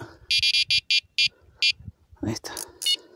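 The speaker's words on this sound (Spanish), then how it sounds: "así cuando pica hace sonar la alarma." An electronic fishing bite alarm on a rod beside a gravel-pit lake gives a run of short, sharp, evenly spaced beeps, loud and close, followed by a few more tones among handling noises and a voice.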